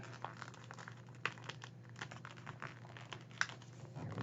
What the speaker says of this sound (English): Turn it over, fold this flap up.